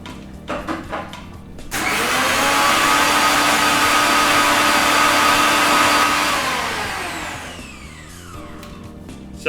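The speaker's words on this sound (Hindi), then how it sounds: "क्योंकि शक्कर मोटी है इसलिए मैं डाल के उसको ग्राइंड कर लेता हूँ" A mixer grinder grinds coarse sugar in one loud, steady motor whir that starts abruptly, holds for about five seconds and then winds down in a falling tone, preceded by a few knocks and rattles.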